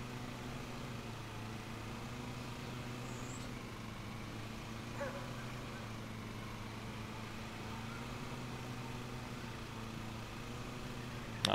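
A dog growls low and steadily over a toy, fairly faint beneath a constant droning engine hum from a lawn mowing game playing in the same room.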